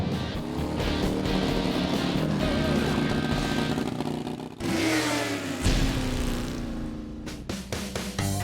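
A loud V8 engine in a motorcycle revs continuously, rising and falling in pitch with a deep throaty roar, briefly dipping before surging again.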